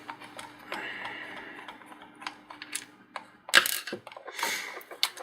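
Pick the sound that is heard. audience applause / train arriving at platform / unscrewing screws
unscrewing screws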